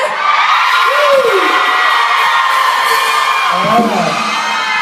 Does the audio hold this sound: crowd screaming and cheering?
yes